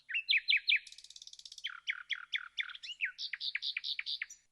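Bright, rapid birdsong of a singing nightingale in a story sound effect, a near, lively run of repeated chirps, trills and whistled phrases with brief pauses, alone and without talk.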